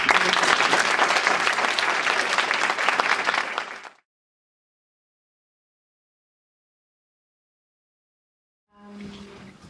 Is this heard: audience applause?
yes